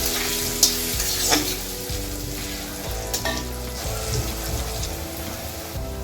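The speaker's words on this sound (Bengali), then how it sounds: "আমি এই আলুগুলোকে ভালো করে ভেজে দিব" Potatoes seasoned with turmeric and salt frying in hot oil in a pan: a continuous close sizzle with occasional stirring scrapes and small spatters, and no talk.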